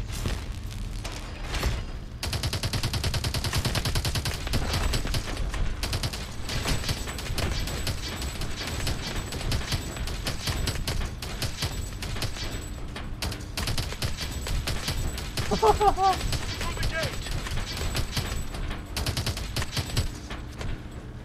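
Heavy gunfire from a big gun in Call of Duty: Advanced Warfare: sustained rapid bursts and booming fusillades pound on for the whole stretch, loud and dense, with mechanical clatter mixed in.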